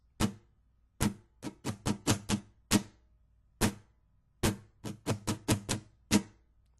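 Crisp, percussive muted guitar strums in a rhythmic pattern, short dry chunks in clusters with brief pauses between groups, no talking.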